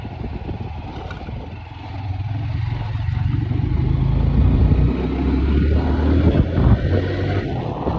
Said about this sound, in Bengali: এখন গাড়ি চলবে একটু জোরে